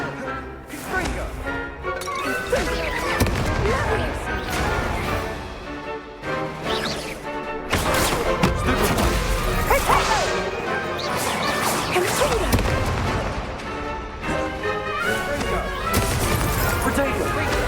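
Hogwarts Legacy spell combat with Confringo fire blasts, dense and loud crashing explosions and impacts that layer over game music and character voices in a continuous battle din.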